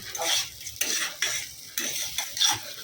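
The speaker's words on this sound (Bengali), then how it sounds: "গরম মশলা ঘি তেল দিয়ে চালটাকে আগে ভেজে নিচ্ছি" Rice frying in ghee and oil with garam masala for pulao, stirred in bursts: loud scraping sweeps of a spoon against the pot over a crackling sizzle, close by and without speech.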